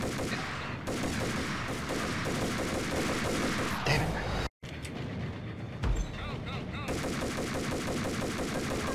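Rapid gunfire rattles in long automatic bursts in the video game Max Payne. The shooting is broken by a brief dropout and single heavier shots, then resumes loud and sustained.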